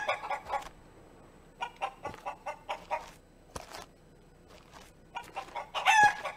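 Chickens in a video game clucking and crowing in short repeated bursts, fairly close and alone, with a rooster-like call near the end.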